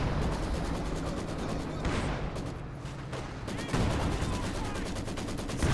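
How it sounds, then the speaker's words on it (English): An artillery barrage in a strategy video game rumbles on as a dense, continuous run of booming blasts and rapid gunfire crackle. It stays loud throughout, briefly thinning near the middle before surging again. "This barrage does act more of a mortar now."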